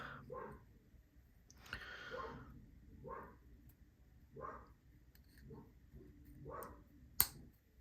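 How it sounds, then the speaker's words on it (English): A dog barking indoors somewhere off in the house, a series of about eight faint, muffled barks spaced irregularly, with a sharp click near the end. "my dog's barking at something"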